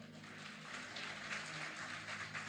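A church congregation applauds during a sermon, giving a brief, faint, steady patter of clapping in a reverberant room.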